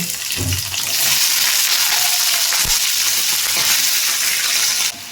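Cubed potatoes and slit green chillies frying in hot oil in a pan, a steady close sizzle filling the whole clip, with a brief low thud of stirring near the middle and no talking.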